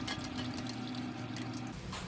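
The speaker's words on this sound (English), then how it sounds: "the water starts to pour out of here" Water pours faintly and steadily from a ceramic toilet tank as its bolts and water line are disconnected, a soft continuous rush with a low hum beneath.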